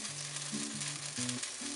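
Corn and pea fritters sizzle steadily in a hot pan, a continuous crackling hiss close by with no voices.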